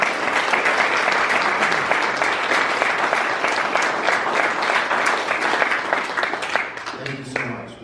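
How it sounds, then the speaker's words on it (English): Guests at a woman's club scholarship luncheon give the students a long round of applause, dense and steady clapping from a sizable crowd that tapers at the end as voices begin to speak. "how about a big round of applause for the students tonight"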